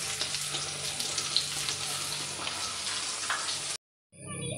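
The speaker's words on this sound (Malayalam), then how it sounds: "ഇനി ശരിക്കും നമുക്കൊന്ന് ഇളക്കി കൊടുക്കാം." Paneer stir-fries in a pan for Hakka paneer, with a steady close sizzle and crackle, scraping stirs, and then a sudden brief cut to near silence before the frying resumes faintly.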